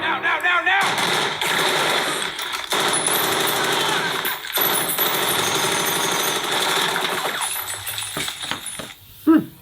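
Automatic gunfire from a war movie scene in Baghdad's Green Zone: long bursts of rapid machine-gun shots rattle loud and continuous, with faint voices beneath and a sharp final thump at the end.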